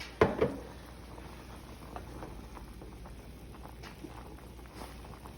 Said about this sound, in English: I want you to watch it as it sizzles.